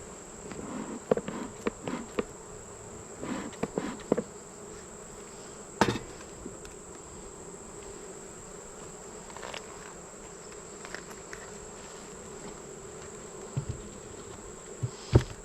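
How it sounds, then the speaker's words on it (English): Honeybees buzzing around an open hive during a late-summer inspection, a faint, continuous insect hum with a steady high whine, broken by scattered knocks and brief handling clicks, with no talking. "Got one bee buzzing me here."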